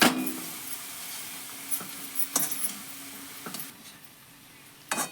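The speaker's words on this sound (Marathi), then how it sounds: "आता पूर्ण हलवून घेऊया" A spoon stirs salted wild greens (chai mohar) in a pan, with scattered scraping strokes and light metallic knocks over a faint sizzle, close and quiet, with no speech.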